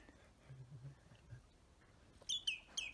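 Several quick high chirps from a small bird near the end, brief and fairly close, following a quiet stretch with faint low rumbling; no one talks.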